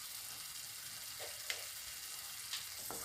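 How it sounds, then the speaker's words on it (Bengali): Masala sizzling steadily in a hot pan as a Bengali chitol fish muitha dish is cooked, a soft continuous frying hiss with a few faint scrapes and taps from stirring. "এটাকে ভালো করে কষে নেব।"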